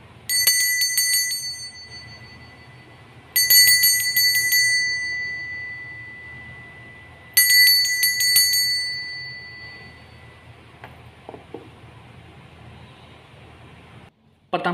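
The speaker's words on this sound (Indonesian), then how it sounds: "di sini kita akan mulai ditandai dengan lonceng berbunyi." A bell rings in three clear bursts of bright, ringing strikes spaced a few seconds apart, each decaying into a quiet background hum, with a soft thump near the end.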